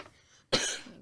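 A single sharp cough bursts out after a brief quiet, close and fairly loud, trailing off into breathy noise.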